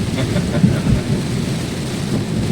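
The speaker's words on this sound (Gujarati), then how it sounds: "હવે વરસાદનું ચાલુ છે પણ પાણી નથી આવ્યું" Rain falls heavily during a windy storm, a dense steady wash with low rumbling, loud and close throughout, and no voices.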